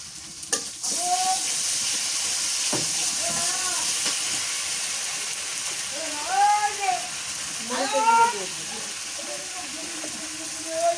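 Fish frying in a pan with garlic and onion paste, a steady close sizzle and hiss with occasional stirring scrapes, while a voice talks over it in bursts.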